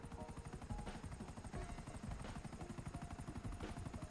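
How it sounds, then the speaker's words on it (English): A helicopter in a video game, its rotor thumping in a fast, steady rhythm at moderate distance, continuous and alone without talk. "Seriously, lady, quit doing your nails and give me my chopper."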